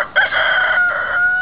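A rooster guarding a nesting area gives one full cock-a-doodle-doo crow, loud and close, a bright drawn-out call with a brief break partway through.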